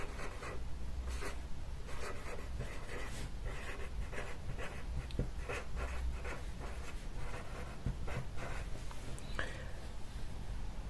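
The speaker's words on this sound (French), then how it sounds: "Ensuite, on va écrire un petit mot." A pen writes a short note on a sheet of A4 paper for an origami greeting card envelope, giving close, quiet scratchy strokes in quick irregular bursts over faint background noise.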